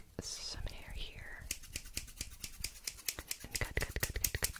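Scissors cutting hair close to the microphone during a fast haircut, a run of crisp, rapid snips that speeds up toward the end, preceded by soft whispering.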